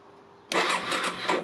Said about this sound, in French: ça fait tourner forcément le démarreur puisqu'il est commandé en direct sur la batterie